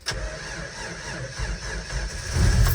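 A cold engine with suspected compression problems cranks and catches, then runs with an uneven, galloping rumble that swells louder near the end.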